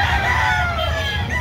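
A grey gamefowl rooster on a Cebu farm crows in a sustained, drawn-out call, loud and close, with little talk over it.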